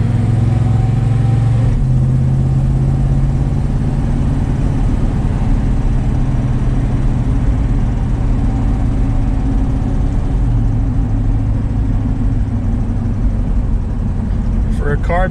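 A 1969 Dodge Dart engine idles steadily on a replacement carburetor that sat on a shelf for years, a loud continuous low rumble with a brief pitch shift early on, and voices talking over it.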